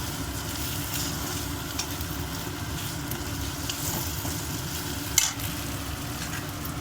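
Tomatoes added to ginger-garlic paste sizzling in a pan for egg curry, a constant frying hiss with a low rumble and one sharp clink near the end, no voices.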